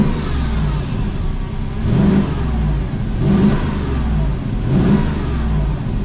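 A 2004 Porsche Cayenne with a 4.5-liter V8 revs repeatedly, its loud, deep engine note swelling and falling in several rhythmic bursts over a continuous rumble, close to the listener.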